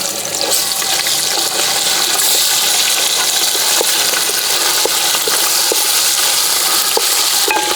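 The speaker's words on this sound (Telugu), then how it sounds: "నూనె గరం అయిన తర్వాత బండపువ్వు వేసుకుందాం. బండపువ్వు గోలిన తర్వాత అల్లం ఎల్లిగడ్డ పేస్ట్ వేసుకుందాం." Ginger-garlic paste with spices frying in hot oil for goat head curry, a loud, dense, continuous sizzle close up with scattered small clicks of a spoon, no voices.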